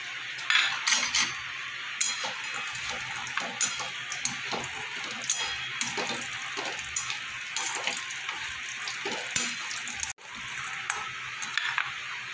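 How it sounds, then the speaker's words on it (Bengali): Bori, small lentil dumplings, fry in hot mustard oil in a wok, giving a steady broadband sizzle with scattered clinks and stirring scrapes. It runs close and continuous for the whole stretch, with a brief dip near the end. "তেলটা আমার গরম হয়ে গেছে, এবার আমি বড়িগুলো ভেজে নেব।"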